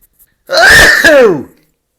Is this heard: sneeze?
yes